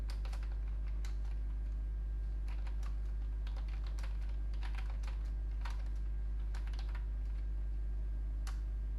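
Typing on a computer keyboard, bursts of quick light key clicks in short irregular runs with pauses, close and fairly faint over a steady low electrical hum.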